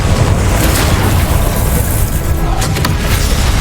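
A loud, sustained rumbling blast from the Confringo spell in Hogwarts Legacy, dense and booming throughout with crackling bursts near the end.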